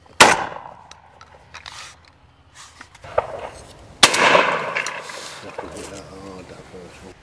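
A Browning Maxus shotgun fires at wood pigeons over decoys, two loud sharp blasts a few seconds apart with rolling outdoor echo, and people speak quietly between the shots.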